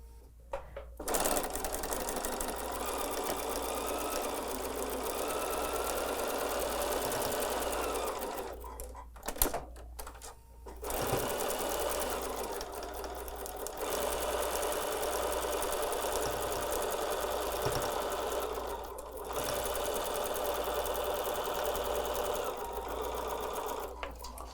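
A sewing machine stitches a Christmas quilt block in long steady runs of rapid mechanical chatter, pausing briefly twice before resuming, close and clear with no talking.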